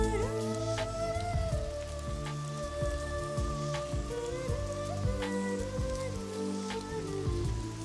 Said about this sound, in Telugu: వానొస్తే ఎక్కడైనా తల దాచుకోవాలి.